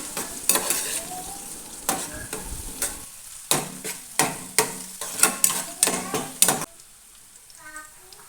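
Garlic and vegetables sauté in a hot pan while a utensil stirs them, producing a close, steady sizzle broken by a run of sharp, rhythmic scraping strokes, then easing to a quieter sizzle near the end.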